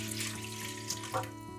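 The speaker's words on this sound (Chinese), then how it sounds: "再加入适量的清水" Water pours steadily into a pot holding crushed peanuts and 20 grams of white sugar. The stream makes a soft, even splashing sound, faint and close, with no voices.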